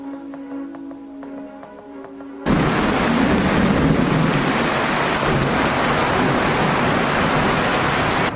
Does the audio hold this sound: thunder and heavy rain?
yes